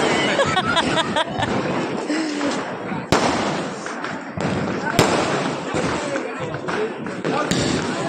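Diwali firecrackers burst with a few sharp, loud cracks spaced several seconds apart over steady background noise that may include rain, while people talk throughout.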